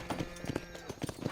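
Hooves of a horse in the Western game Red Dead Redemption clop in quick, uneven beats, soft and fairly close, over a brief stretch with low background ambience.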